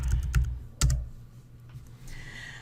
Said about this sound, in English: I'm just going to type in hello.